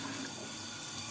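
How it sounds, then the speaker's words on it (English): Warm tap water running steadily from a faucet over a wash towel at a sink, a close, continuous splashing hiss with no voices. "I'm going to run it through warm water"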